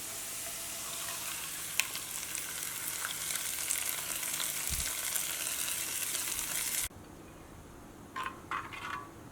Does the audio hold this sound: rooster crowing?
no